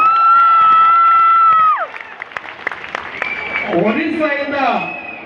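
At an Oriya jatra performance in Bangalore, a held musical tone cuts off, then scattered claps and loud shouting and whooping voices from the audience follow.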